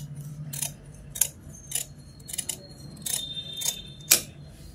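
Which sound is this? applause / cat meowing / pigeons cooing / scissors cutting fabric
scissors cutting fabric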